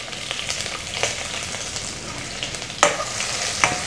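Finely chopped onion fries in a hot pan with a constant close sizzle, broken by a few scraping stirs and two sharper clinks of the spoon against the pan.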